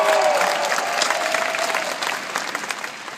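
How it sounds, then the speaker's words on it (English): Enthusiastic audience applause and some cheering at a 2014 commencement ceremony, dense clapping from a large crowd that stays loud before thinning slightly toward the end. "Can we give them a round of applause?"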